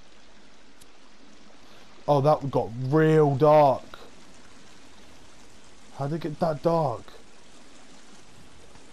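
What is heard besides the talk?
flowing water in video game The Forest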